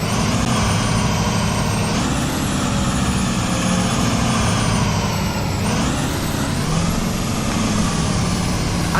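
A 2007 Blue Bird International SBCV school bus with a DT466E diesel engine, simulated in Rigs of Rods, growls steadily and loudly throughout with a rough, dense rumble, rising slightly in pitch around the middle.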